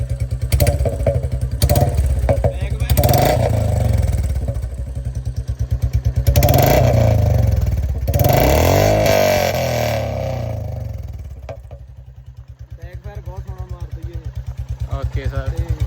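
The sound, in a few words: Royal Enfield Bullet 2024 motorcycle revving with modified silencer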